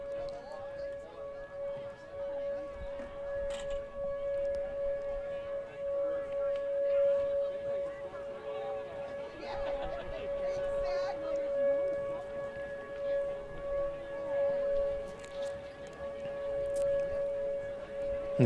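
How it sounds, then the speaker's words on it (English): A civil defense siren sounds in the distance at an outdoor track and field meet, a steady sustained tone held throughout, faint behind a commentator speaking over it. "I just got a text wondering about why the siren's on right now."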